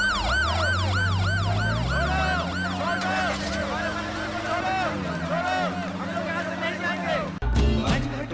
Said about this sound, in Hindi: देख लो, सायरन वाली है ना।